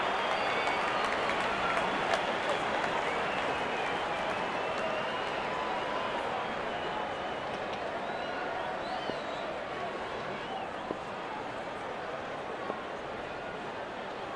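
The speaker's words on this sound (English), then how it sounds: "The crowd is enjoying every bit of this action." A stadium crowd in the Real Cricket 22 video game, during a UAE vs Pakistan Asia Cup match, keeps up a steady, broad roar of applause and cheering that stays fairly constant throughout.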